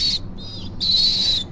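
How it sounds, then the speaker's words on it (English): Baby pigeons at a wildlife hospital give high, thin squealing calls in two bursts separated by a softer warbling note, close and fairly loud. "now you will know that there are baby pigeons around"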